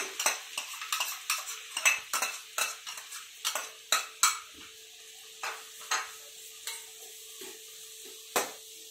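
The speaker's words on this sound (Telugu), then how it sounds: "నెయ్యిలో క్యారెట్ తురుము వేసి వేయించుకుంటున్నాను" Grated carrot being stirred in ghee in a pan, with a steady train of utensil scrapes and clinks at close range over a faint sizzle, no voices.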